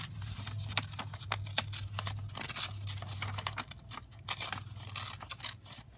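Paper tearing by hand around a picture for a handmade junk journal, a run of short ripping and crinkling bursts, close and fairly quiet, with a low steady hum underneath.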